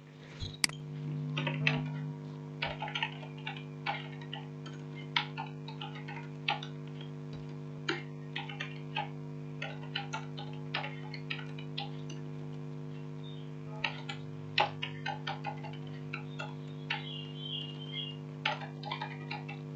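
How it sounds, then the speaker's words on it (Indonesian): Typing on a computer keyboard, with scattered quiet key clicks in irregular bursts over a steady electrical hum, close by. "Kita ketikkan di situ."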